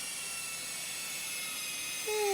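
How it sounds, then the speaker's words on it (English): An electric sander works on someone's feet, a steady high whirring hum that holds level throughout, rising in pitch and loudness near the end as it bears down. "she's sanding her feet"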